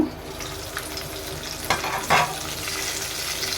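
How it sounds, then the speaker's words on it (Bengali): Chicken pieces fry in hot oil in an uncovered pan, giving a steady close sizzle with two brief louder spatters midway. "আমি এখন ফ্রাইগুলো উল্টিয়ে দেব।"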